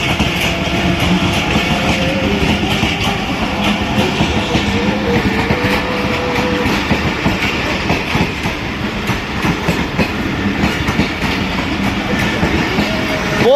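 Train running through the 118-year-old British-era Badami Bagh railway station, a loud steady rumble of rolling wagons with rhythmic clickety-clack of wheels on rail joints, close by and continuous, with a brief squeal near the end.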